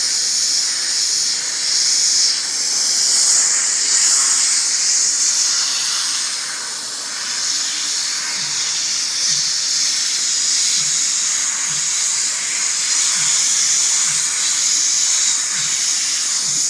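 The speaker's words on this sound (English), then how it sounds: "I'm going to come back in it and get a little bit more sharp with my airbrush" An airbrush sprays paint onto rayon fabric in a loud, close, continuous airy hiss that holds steady throughout with slight swells.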